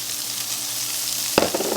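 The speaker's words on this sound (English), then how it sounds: "let's go ahead and cook up this diced ham" Diced ham frying in a pan with leftover bacon grease, a steady crackling sizzle near the microphone with a sharp clatter partway through as the pieces are stirred.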